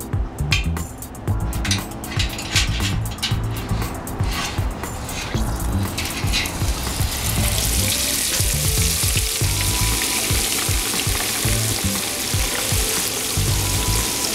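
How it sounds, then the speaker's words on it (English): A whole turkey deep frying in hot oil held near 350 degrees gives a loud, dense, steady sizzle and bubbling that grows stronger and more even over time, heard up close with no talking. "But we're ready to drop this turkey into the fryer."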